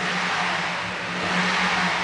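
A 5.7-litre V8 in a 2008 Toyota Tundra SR5 pickup revs up and holds a steady, loud, close drone for a couple of seconds, with no talking over it.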